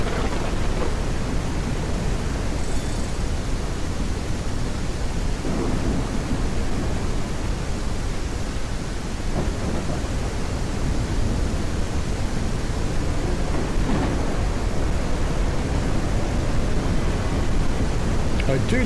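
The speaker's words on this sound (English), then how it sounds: "I do love the intensity of the storm out here." Heavy storm noise in City Transport Simulator, a steady loud wash of rain and wind with low thunder rumbles swelling around the driver's cab of a Tatra KT4D tram, continuous throughout.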